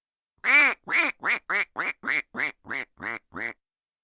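A duck-quack sound effect: ten nasal, evenly spaced quacks in a quick steady rhythm, loud and close against silence.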